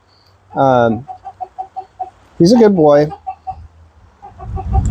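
An Easter Egger rooster in a coop makes two drawn-out vocal calls separated by runs of short soft clucks, close and loud, while someone speaks briefly between them.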